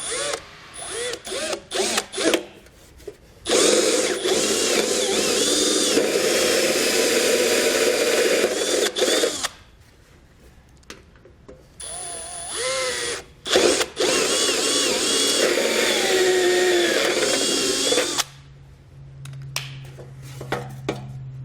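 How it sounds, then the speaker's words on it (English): A power drill bores a hole through the frame of a 2020 Subaru Forester while a Curt trailer hitch receiver is being fitted, with loud, sustained whining bursts broken by short pauses and brief stops, close to the microphone. "we're going to use that dimple as a guide to actually drill out a hole"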